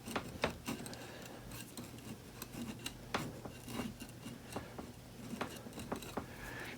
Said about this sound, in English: Now I'm going to do the same thing to the top, keeping the chisel flat.